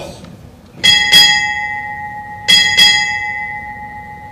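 A ship's bell rings four times in two quick pairs at a Navy change of command ceremony, each strike bright and ringing out, with a faint murmur of voices before the first pair.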